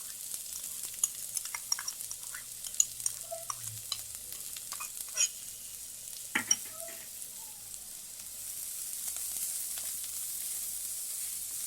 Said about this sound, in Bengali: তো আমি প্রথমে কড়াইতে তেল দিয়েছি, এবার আমি পেঁয়াজটা দিয়ে দেবো, লঙ্কাটা দিয়ে দেবো।